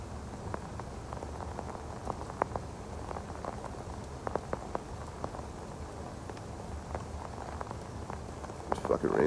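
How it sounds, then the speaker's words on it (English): Rain falls outdoors among dripping trees, a constant soft patter broken by sharper drops landing close by, with a faint voice now and then. "This fucking rain sucks."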